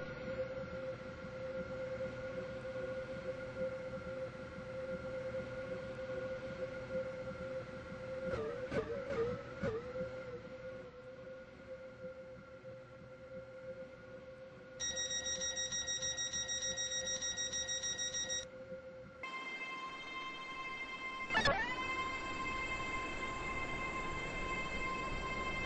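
A Class 801 express train runs in a railway simulator game, a steady mechanical hum with a few sharp clanks and rattles, followed by electronic chime-like tones near the end.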